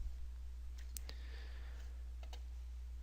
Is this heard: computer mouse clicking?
yes